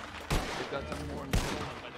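Two loud gunshots ring out in a Red Dead roleplay video game, about a second apart, each with a booming attack and a short echoing tail over low game ambience.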